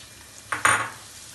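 Chopped onions hitting hot oil in a pan for chicken vegetable chowmein, with two quick, loud sizzling bursts close by that then settle into a softer hiss.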